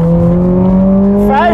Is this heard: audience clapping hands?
no